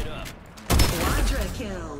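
Weapon fire in the video game Farlight 84: a sudden loud burst of shots after a quiet moment, continuing as a rapid rattle with a player talking over it.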